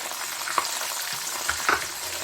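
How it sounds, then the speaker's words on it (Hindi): Two small onions sizzle steadily in hot oil in a pan for a Hindi-style green chicken and palak curry, with a constant bright frying hiss and a few soft stirring clicks near the microphone. "इसको प्याज को हल्का सा ब्राउन करना है।"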